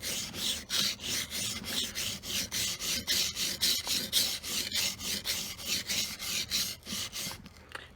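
A steel knife blade scrapes back and forth across a wet whetstone in steady rhythmic strokes, close and clear, roughly a dozen even passes with no talking.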